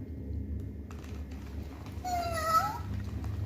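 A children's toy cat gives a short electronic meow after its button is pressed, a rising-falling tone near the middle of the clip over a steady low hum and faint background noise.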